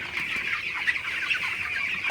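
A flock of broiler chickens clucks continuously, a dense, steady chorus of overlapping clucks and chatter close by.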